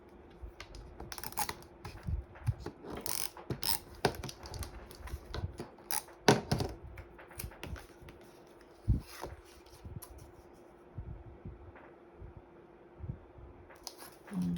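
A Cricut cutting machine works through a paper purse template, giving a steady mechanical hum with a run of irregular clicks and taps from the moving blade carriage, close by and with no one speaking.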